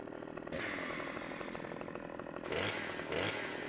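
Chainsaw felling a tree in Farming Simulator 17, a steady high buzzing engine drone that rises in pitch and loudness twice near the end as the blade bites, heard alone without talk.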